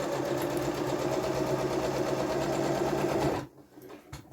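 A sewing machine runs steadily at close range, stitching a pocket bag seam on a dungaree with a continuous mechanical whir for over three seconds before stopping abruptly.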